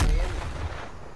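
A single heavy shot or blast in Black Ops Cold War, a loud low boom that fades out over about a second.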